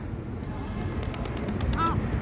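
White homing pigeon landing nearby, a brief flurry of wing clatters followed by a short soft coo over low outdoor rumble.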